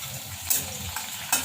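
Cumin, green chilli and curry leaves crackle in hot oil for a brief tempering for sabudana khichdi, a close steady sizzle broken by two sharp spitting pops.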